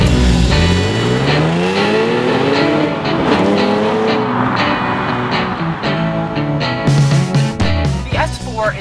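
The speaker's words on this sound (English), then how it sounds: "Is powered by a 3-liter supercharged V6, which pumps out a vastly underrated 333 horsepower and 325 foot-pounds of torque." A 2014 Audi S4 with a 3-liter supercharged V6, six-speed manual and Quattro drive pulls hard through several rising gear sweeps, its engine note climbing, dropping at shifts and climbing again, loud and close throughout.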